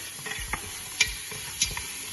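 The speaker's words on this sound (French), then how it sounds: "on mélange bien." A spoon stirs spiced meat sticking slightly to the bottom of a saucepan for haleem, giving a few distinct scraping clicks over a low sizzle, close and fairly quiet.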